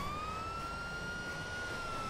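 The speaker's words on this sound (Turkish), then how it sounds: "Bir açayım mı burada sireni?" A modded gendarmerie vehicle in GTA 5 sounds its siren, a loud, steady electronic wail holding a clear tone with a slight upward drift over a noisy background.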